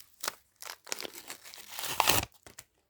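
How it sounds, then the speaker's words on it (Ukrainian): Crinkly plastic rustling and a tearing rip as a small packet holding an antistress toy is pulled open, close up, in short bursts over a few seconds. "І відчиняємо наш пакетик з антистресом."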